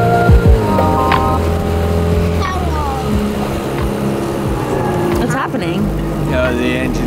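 An overheating boat engine runs loudly and close, a continuous motor drone with some splashing and rumbling over about seven seconds.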